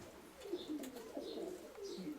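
Soft, low pigeon cooing at a newly built pigeon loft repeats in short murmuring phrases, with faint higher bird chirps scattered above, fairly close and steady.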